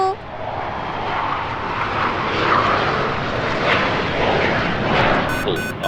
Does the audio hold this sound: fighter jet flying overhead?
yes